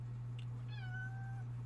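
A single cat meows once, a clear drawn-out call lasting under a second over a steady low electrical hum, fairly close and quiet.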